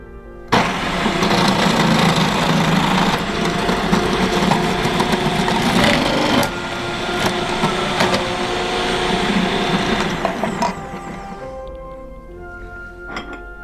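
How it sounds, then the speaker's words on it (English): A carrot being grated for a winter salad makes a steady, whirring, rasping grind that runs for about ten seconds before tapering off, with faint clinks near the end. "And now we're going to grate a carrot."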